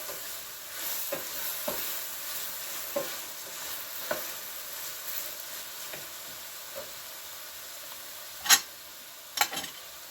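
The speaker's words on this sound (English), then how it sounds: "I'm going to add my garlic. The Knorr with tomato in here." Garlic and Knorr tomato sizzling gently in a pan, a quiet continuous fry with occasional soft stirring taps and two louder scrapes near the end.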